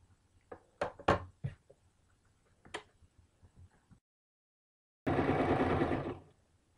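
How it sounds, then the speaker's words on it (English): A sewing machine stitches a kameez seam along a curve: a few scattered clicks and taps come first, then after a pause a close, steady whirring burst of stitching lasts a little over a second. "Sew it really carefully so that you're following the natural curve"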